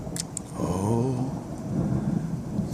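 Rolling thunder from a lightning storm rumbles low and steady throughout, a deep sustained growl with faint crackle above it and no voices.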